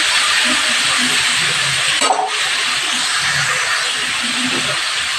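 Mixed vegetables dropped into a hot pan of oil tempered with fenugreek seeds give a loud, continuous close-up sizzle, with a short clatter of stirring midway and the hiss staying strong throughout.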